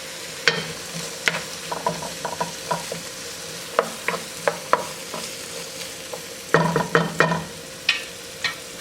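Diced shallot sautéing in a pan while being stirred, a steady soft sizzle broken by sharp, irregular scrapes and clicks of the spoon against the pan, close and clear with no talk.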